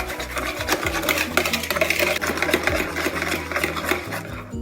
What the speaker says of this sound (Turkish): Şeker ve yumurta güzelce karışana kadar çırpıyoruz